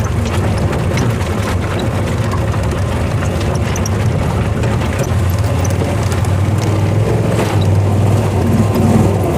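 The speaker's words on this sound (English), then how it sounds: "Time to just tickle the throttle" Engine of a Duzgo off-road vehicle revving steadily under light throttle on rough, unusual terrain in New Zealand, a continuous low mechanical drone that rises slightly near the end.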